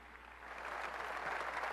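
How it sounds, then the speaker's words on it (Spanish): Applause for senators at a swearing-in ceremony, a soft steady crowd clapping heard at a distance that swells slightly over under two seconds, with no voices over it. "quiero que le demos un aplauso a los senadores chiapanecos"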